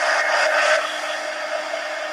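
Close, steady whoosh of a hair dryer blowing over wet paint dots in a mixed media napkin journal, slightly louder at first then holding an even roar, with no voices.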